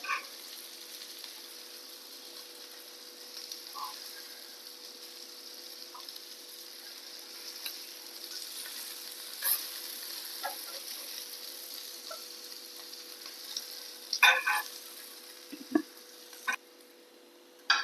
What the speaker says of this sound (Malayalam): നമ്മുടെ മീൻ വറുത്തത് റെഡി ആയിട്ടുണ്ട്